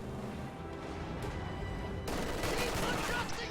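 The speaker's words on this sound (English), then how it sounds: "LMG Grenadiers engaging against the riflemen right here." Light machine gun fire from grenadier squads trading shots with riflemen in a real-time strategy battle, a dense crackle of overlapping gunfire that swells louder and busier in the second half, heard from a moderate distance.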